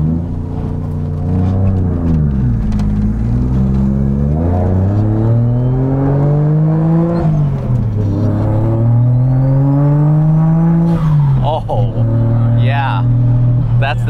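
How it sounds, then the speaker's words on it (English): A Nissan 280Z fitted with an RB engine revs up and down in long rising and falling sweeps, loud and close, with people talking over it throughout. "That RB sound is so defined."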